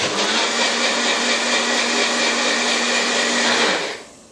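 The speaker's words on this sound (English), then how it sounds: "Just going to put the lid on here and we're going to blend it up just for a second." A blender whirs at full speed through a kale sauce with the lid on, a loud steady high-pitched drone that cuts off abruptly near the end.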